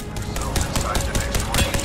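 Rapid gunfire in the battle royale game Apex Legends, a dense, steady rattle of shots lasting the whole moment under a busy game soundscape.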